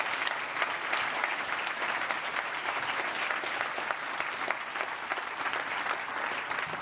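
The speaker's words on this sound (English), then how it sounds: "So can we just have a massive round of applause for the first 60 pitches this morning?" A large audience at a science summit gives sustained applause, dense steady clapping that fills the room for several seconds without letting up.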